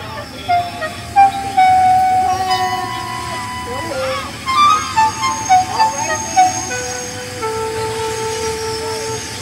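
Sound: cartoon freight train running on rails

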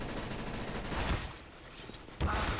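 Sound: gunfire in the video game CS:GO

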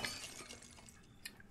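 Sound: smashing a bobblehead in Resident Evil 7 video game

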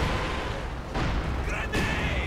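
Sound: Katyusha rocket barrage from the video game Company of Heroes 2

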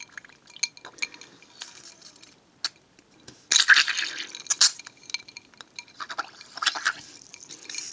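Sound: LOL Surprise doll bubbling in water

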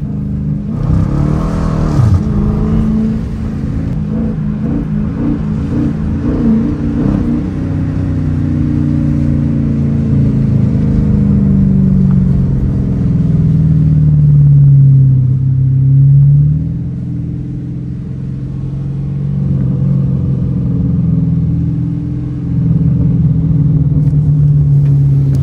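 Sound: Dodge Challenger RT engine revving and downshifting in snowstorm

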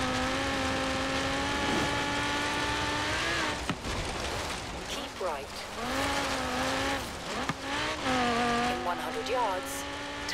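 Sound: car driving fast in the video game Forza Horizon 3

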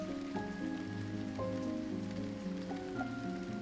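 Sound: drizzling rain falling

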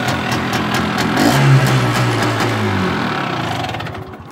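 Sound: Hercules K 125 moped engine idling after kick start

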